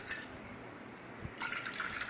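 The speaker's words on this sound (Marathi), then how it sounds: "कुकरमध्ये मी थोडंसंच पाणी अगोदर मिक्स करणार आहे" Water is poured into a pressure cooker, a quiet close splashing trickle that grows louder toward the end, with no voices.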